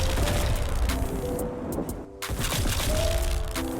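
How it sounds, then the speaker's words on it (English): Repulsor blast ability fired by a suit in the Roblox game War Machines, a dense crackling burst of game effects with booming low rumble and layered tones, continuous and loud with a brief dip midway. "Like the Repulsum Jolne Blast."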